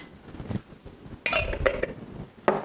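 Chicken legs seasoned with smoked paprika are stirred in a pan, giving close, loud metallic scrapes and clinks of utensil on cookware, a couple of sharp knocks among them, with no talking.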